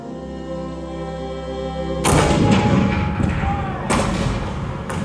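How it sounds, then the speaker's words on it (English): A sustained low tone gives way to a heavy cannon boom from a Disneyland show, followed by rumbling and a second loud blast a couple of seconds later. "The cannons spoke for war."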